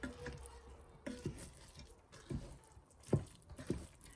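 A spoon stirring jollof rice in a Ninja Foodi pot, a few soft scraping, squishing strokes against the pot, quiet and close, with pauses between.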